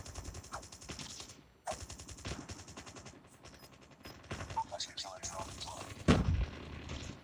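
Gunfire in the video game Call of Duty Mobile, with rapid bursts and scattered shots, one louder blast near the end, mixed with game effects and a person talking intermittently.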